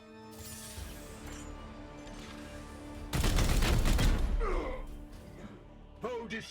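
Gunfire in the video game Warhammer 40k Chaos Gate Daemonhunters: a loud, dense burst of shots lasting about a second and a half, rising over steady game ambience, followed by quieter effects.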